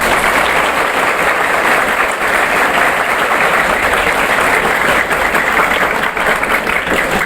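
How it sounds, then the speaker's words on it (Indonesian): Loud, close applause fills a religious scholarly gathering, a thick continuous wash of many hands clapping at once with no pause or voice on top. "Tepuk tangan."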